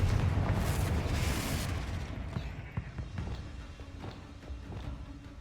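Bombarda blasting spell cast in Hogwarts Legacy, a loud rumbling burst that fills the opening seconds, then fades into scattered thuds and crackling debris.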